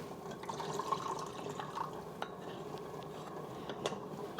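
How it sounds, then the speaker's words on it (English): Cornstarch slurry poured and stirred into a simmering Chinese beef brisket sauce, with a soft continuous bubbling and liquid trickle, faint clinks of a utensil against the pot, close and steady with no talking. "Once the sauce starts to simmer, you're going to add your cornstarch slurry"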